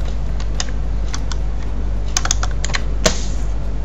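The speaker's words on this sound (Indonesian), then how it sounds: "Kita ketik dulu ya." Typing on a computer keyboard, a quick irregular run of light, close key clicks over a steady low hum, with a slightly louder tap near the end.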